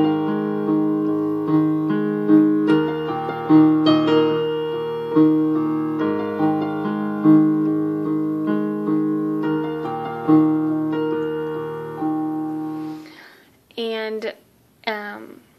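Solo piano plays the intro of a worship song, steady chords and a repeating melody at full tempo, loud and close, followed at the end by a few brief spoken words.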